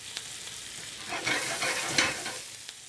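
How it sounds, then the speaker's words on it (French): Turkey bacon, vegetables and mushrooms sizzle and fry in a hot pan, a crackling hiss that swells as the food is stirred, close and fairly loud, with no talking. "C'est très important d'entendre un grésillement. Si ça ne grésille pas, c'est que votre poêle n'est pas assez chaude."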